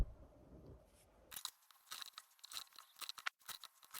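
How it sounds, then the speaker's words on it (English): Scissors make a series of short, crisp snips and rustles as they cut quilting fabric into small pieces on a quiet tabletop, close and fairly faint. "Next I'll cut 5 2 by 6 inch pieces."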